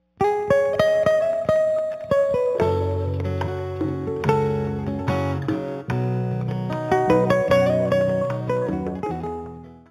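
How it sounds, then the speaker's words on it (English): A school tardy bell plays a bright electronic chime melody continuously, note after note with sharp attacks, loud and close with no talking. "The tardy bell, which sounds like this."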